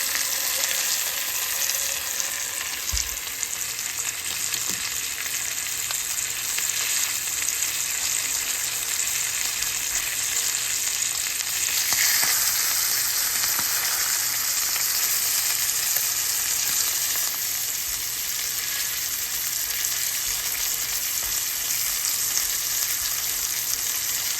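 A dry aged ribeye steak sears in butter in a hot pan, giving a loud, steady sizzle and crackle throughout, with no talking.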